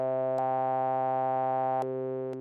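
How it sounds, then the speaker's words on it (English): Switched formant synth module built from a 1960s Bell Labs design, holding a steady buzzy harmonic tone while its filter shifts, with a few abrupt clicks as the filter switches; close and alone. "You can hear the Formant changing or the filter changing."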